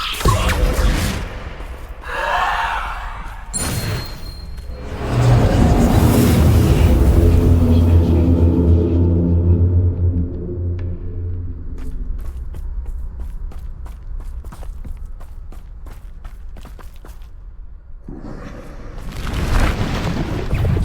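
Descendo spell cast in Hogwarts Legacy combat: loud rumbling impacts and booming slams, a big sustained blast midway that fades into a long decaying rumble, then another burst near the end.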